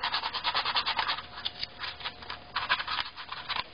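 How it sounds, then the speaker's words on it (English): Sandpaper rubs back and forth across a plate being tuned, giving close, brisk scratchy strokes in a steady rhythm with a short pause partway through. "Now I'm going to use sandpaper so I don't"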